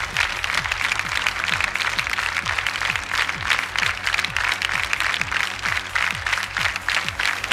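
Sustained audience applause fills a televised gala show for singing-contest finalists, dense steady clapping with crowd noise under a faint music bed, no speech.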